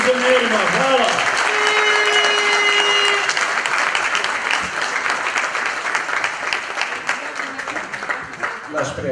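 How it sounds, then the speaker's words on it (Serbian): Sustained applause from a crowd at a citizens' plenum in Mostar, cheering the pensioners; dense, loud clapping that continues throughout, with a brief voice audible at the start and the clapping slowly tapering toward the end. "Zato još jedan aplauz našim penzionerima"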